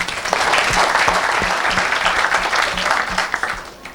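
A church congregation claps together in praise of the Lord, a dense, steady round of applause that holds for several seconds and fades slightly at the end.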